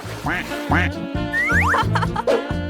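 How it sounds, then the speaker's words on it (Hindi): Several loud, nasal duck quacks in quick succession, close by, with a few higher squeaky calls mixed in. "और तुम्हारे पास छोटे छोटे बत्तख भी होंगे"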